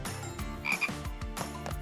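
A frog croaks in a repeated, rhythmic series of low throaty calls, fairly faint and steady, with no voices.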